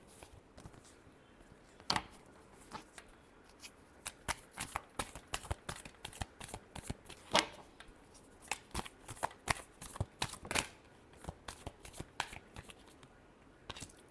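Tarot cards being shuffled by hand, a long run of quick crisp riffling snaps and slaps in an irregular rhythm, close and clear against a quiet room.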